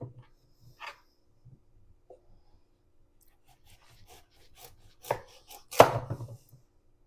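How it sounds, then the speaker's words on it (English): Knife cutting open a mashed potato squash, sparse scattered taps and scraping strokes building to a couple of firm chopping thuds near the end, fairly close. "I'm going to cut them open and scoop the seeds out"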